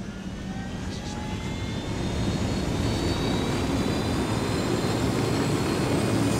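A steady, loud aircraft engine drone from an armed helicopter in Ghost Recon: Wildlands, holding continuous and building slightly in the first two seconds, with no talk over it.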